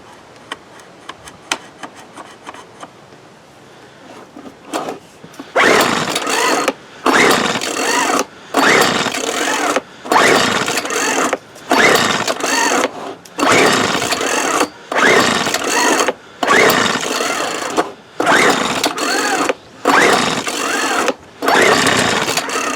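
A 1997 Weed Eater BV 1800 24cc two-stroke leaf blower with a bad carburetor gets a few faint early pulls, then repeated loud recoil-start pulls in a steady rhythm, each a rough rasping turnover separated by short pauses, never catching.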